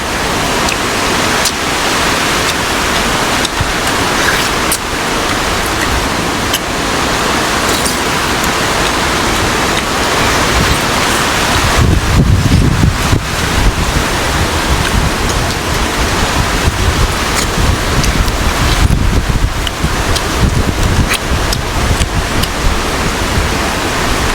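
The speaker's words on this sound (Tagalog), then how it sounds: "Grabe hangin." Strong, steady roar of wind blowing hard and continuously during a typhoon, with deeper rumbling gusts building in the second half; no voices.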